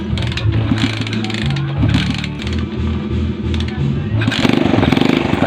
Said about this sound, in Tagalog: Susubukan na natin itong motor. Subukan natin paandarin.